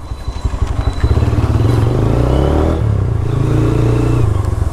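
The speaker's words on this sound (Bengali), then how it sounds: "তবে এক্সজস্টের সাউন্ডের কথা বলতেই হবে।" Motorcycle exhaust rumbling close by, a steady loud low drone with slight revving swells throughout, no talking.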